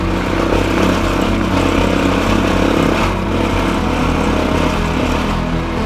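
A KTM 690 Enduro single-cylinder motorcycle engine runs steadily up close, a loud continuous thrum with slight swells in revs, alone without talk.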